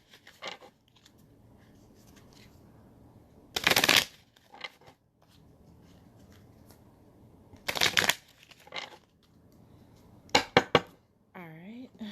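Tarot cards are shuffled in three or four sharp riffling bursts spaced a few seconds apart, close and crisp, with quiet room tone and a brief voice between them.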